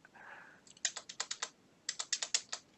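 Quick bursts of typing on a computer keyboard, two rapid runs of crisp key clicks separated by a brief pause, close and fairly quiet with no talking.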